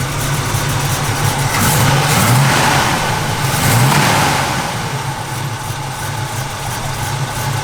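A 1965 Chevrolet Malibu engine with a cam, loud and close, idling with a lumpy rhythm and rising into two revs before settling back to a steady rumble.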